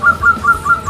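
Songbirds call at an open-air bird market in Plered, Cirebon, including perkutut doves, giving a loud, close, rapidly repeated whistled chirp in a quick steady rhythm.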